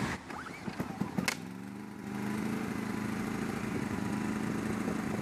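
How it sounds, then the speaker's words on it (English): A Black and Decker BD2000s generator is started with a pull cord: a few quick rattling tugs, then the engine catches and settles into a steady, loud, droning idle that runs alone to the end. "Now we're going to pull it, and as always, it's going to start on the first pull."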